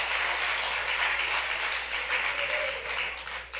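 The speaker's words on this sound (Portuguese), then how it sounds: "Pode dar um aplauso para Jesus, irmão." A church congregation applauding, a steady dense wash of clapping from a crowd that continues throughout, moderately loud with no clear speech.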